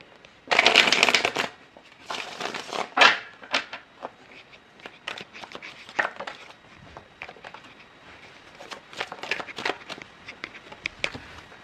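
Tarot cards are shuffled by hand in quick riffling bursts, with a loud flurry early on and softer intermittent shuffles and taps afterward.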